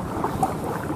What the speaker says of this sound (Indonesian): Angin gede.